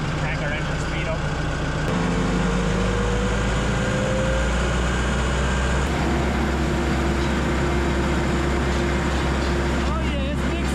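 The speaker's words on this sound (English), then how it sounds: "Crank our engine speed up." The engine of a large soil mixer with an auger and output belt revs up and runs loud and steady as it mixes, its drone rising in pitch, while people talk over it.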